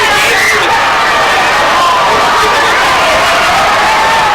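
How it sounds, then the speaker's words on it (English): Crowd cheering and yelling at a varsity high school football game between Omaha Central Eagles and Papillion La Vista Monarchs, a steady dense roar of many voices filling the stands, with nearby chatter mixed in throughout. "Obviously, the crowd getting hyped up."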